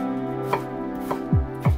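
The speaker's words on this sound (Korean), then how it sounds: "감자도 양파랑 비슷한 크기로 잘라주시고" Kitchen knife chopping potatoes on a cutting board for a creamy oatmeal chowder, with a few crisp, close chops spaced apart and a quiet background hum.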